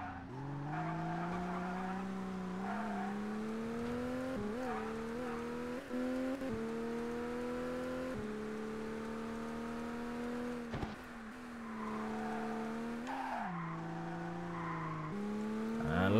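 A race car roars with steady engine drone in ToCA Race Driver 2, its pitch climbing and dropping through gear shifts while tires squeal through corners, loud and continuous throughout.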